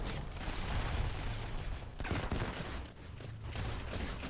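A shotgun turret in Modern Combat 5 unloads rapid, irregular bursts of gunfire, loud and close with brief gaps between volleys, amid dense combat noise and no talking.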